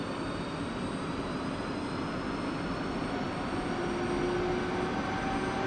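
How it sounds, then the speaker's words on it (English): An F-16 Viper jet engine in a flight simulator spools up steadily, a loud constant roar with thin rising whines layered over it, no voices present. "Bring the engine online."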